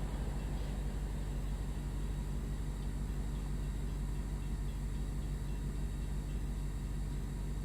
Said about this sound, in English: We'll see the train go by a little bit.